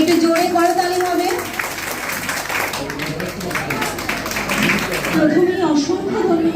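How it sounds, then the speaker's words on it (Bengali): Audience clapping at a cultural evening in Raghunathganj, Murshidabad, a brisk burst of claps in the middle with a speaker's voice before and after. "একটু জোরে করতালি হবে।"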